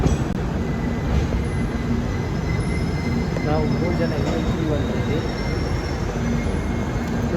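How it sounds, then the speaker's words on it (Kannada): A goods train passing near a station, a loud continuous rumble of wagons with faint wheel squeal and clatter close by, while people talk over it. "Guys goods train."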